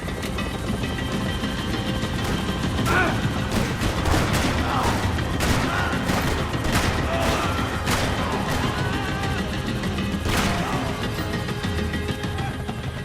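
Gunfire in the video game Max Payne 3 rattles as dense, continuous bursts of shots and crashing impacts over a rumbling background, loud and sustained, with no clear talk.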